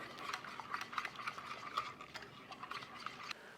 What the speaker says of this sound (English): Just sweeten it up a little bit. Go ahead and give that a whisk.